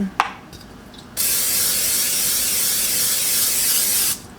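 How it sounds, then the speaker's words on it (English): A sharp click, then a steady close hiss of an aerosol spray can held for about three seconds before cutting off. "And then I just like to use butter spray in my skillet."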